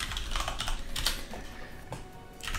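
Steady typing on a computer keyboard, a continuous patter of close keystrokes with occasional sharper clacks over a noisy room background.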